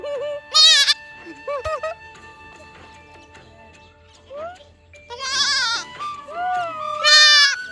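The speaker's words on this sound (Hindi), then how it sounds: "नानिसा के घर पे बकरी के बहुत छोटे छोटे से क्यूट से बेबी थे" Tiny baby goats bleat repeatedly on a family farm, with several loud, wavering high calls close by and a low steady hum underneath.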